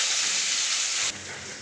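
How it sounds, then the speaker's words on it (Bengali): Potatoes frying in hot oil give a steady, bright sizzling hiss that drops to a quieter level partway through, close and continuous with no talking. "এখন আলু ভাজা হচ্ছে"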